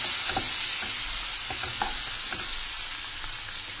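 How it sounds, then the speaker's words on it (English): Sliced onion hits hot butter in a pan over a high gas flame, giving a bright, continuous sizzle with scattered crackles and soft stirring knocks, close and steady with no talking. "We've just added butter, 2 big tablespoons of butter. Then we are adding sliced onion."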